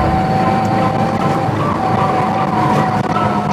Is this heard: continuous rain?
no